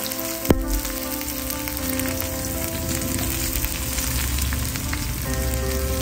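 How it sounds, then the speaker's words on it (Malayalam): Two medium onions frying in oil in a pan while Kerala-style chicken is cooked, a steady dense sizzle with fine crackle running throughout, one sharp clatter near the start. "ഈ സബോള ഒന്ന് വരണ്ട് വരട്ടെ"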